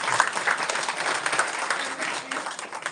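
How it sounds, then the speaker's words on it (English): Audience at a district-level seminar on innovative teaching practices breaks into steady, dense applause that fills the whole stretch at an even, moderately loud level with no voices on top. "Have a clap for it."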